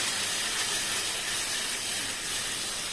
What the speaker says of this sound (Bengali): আমি ওর এটা তেলের মধ্যে ভেজে নিচ্ছি